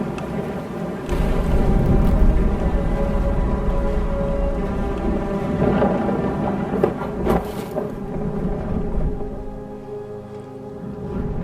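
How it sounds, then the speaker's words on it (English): Deep rolling thunder from the game What Remains of Edith Finch, a sustained low rumble under wind and sea noise that builds in the first seconds and then slowly fades away. "The thunder sounded much too close and full of angry power"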